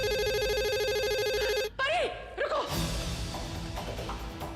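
An electronic telephone ring plays steadily for a couple of seconds, then cuts off into dramatic swooping sound effects and background music.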